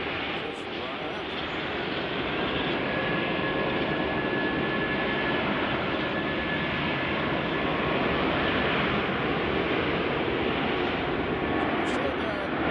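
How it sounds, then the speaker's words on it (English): A Boeing 737 freighter jet at Nashville International Airport produces a constant loud engine roar that fills the whole stretch, with no let-up, while faint talk may sit beneath it. "Our 737 freighter"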